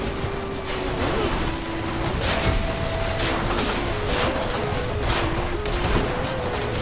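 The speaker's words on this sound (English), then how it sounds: "What is happening that's causing literally all of this series of explosions?" Rapid, continuous bursts of explosions and gunfire-like blasts crackle without pause, dense and fairly loud throughout, in the video game Hades.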